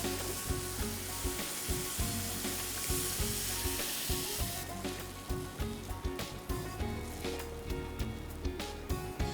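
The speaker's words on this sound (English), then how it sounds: "The tomatoes have cooked through and now I'm going to add the dal" Cooked lentils dropped into a pan of cooked tomatoes, a bright steady sizzle with rhythmic stirring taps and scrapes repeating close by, no voices.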